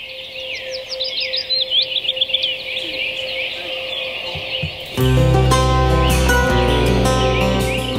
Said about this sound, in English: when the birds start singing